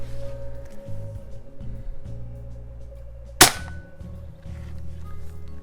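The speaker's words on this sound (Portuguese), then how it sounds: "Disparando aqui para mostrar para vocês, a questão do barulho" A single sharp report from a Hatsan Nova air rifle cracks out loud and close midway through, ringing briefly over a steady low hum, with no talking.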